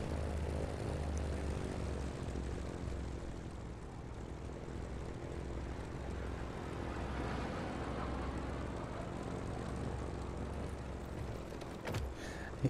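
Propeller plane in the video game Just Cause 3, a steady, droning engine and airscrew hum that holds at an even, moderate level throughout, with a faint clunk near the end and no talk.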